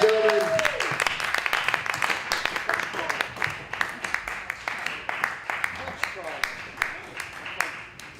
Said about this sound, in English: huge round of applause for Brandon Spars, ladies and gentlemen?